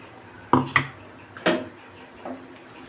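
Masala mixed into a stuffed brinjal curry in a pot, with a few sharp clinks and scrapes of a spoon against the metal vessel, spaced apart over a quiet background.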